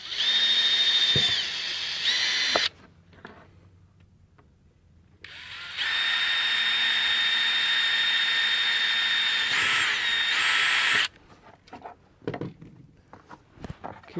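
A power drill bores two holes in a STIHL chainsaw scrench, each pass a loud, steady high-pitched whine lasting a few seconds, separated by a quiet pause with faint handling and followed by scattered clicks.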